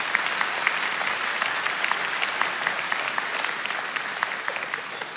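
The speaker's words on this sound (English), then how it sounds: "Please give them a round of applause." Applause from the audience at a 2023 community college commencement ceremony, a steady wash of many hands clapping that fills the hall, loud and continuous without pause.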